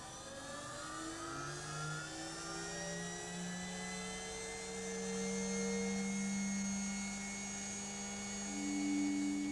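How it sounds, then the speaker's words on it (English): A motor-driven rotating mirror in a speed-of-light measurement rig spins up to a higher speed, its steady whine rising in pitch with layered tonal harmonics, sustained and close with no talk. "Now we'll bring the mirror up to a higher speed."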